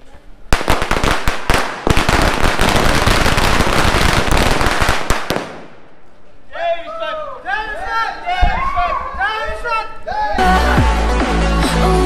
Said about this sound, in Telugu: టపాసులు స్టార్ట్ అవుతుంది